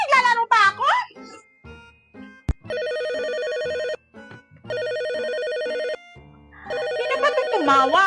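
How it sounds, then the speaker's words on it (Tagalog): An electronic telephone ring sounds in two loud sustained bursts with a short gap between them, and a child and an adult talk excitedly just before and after the ringing. "Sasagutin mo ba yung telepono?"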